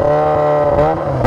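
A Yamaha XJ6 motorcycle engine runs loud and close, a steady harmonic idle with a brief rise in pitch near the end, heard on its own without talk.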